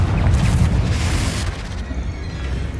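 Confringo fire spell explosion in Hogwarts Legacy, a loud deep boom that rumbles on and slowly fades.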